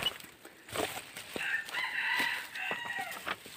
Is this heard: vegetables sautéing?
no